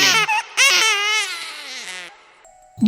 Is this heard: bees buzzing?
no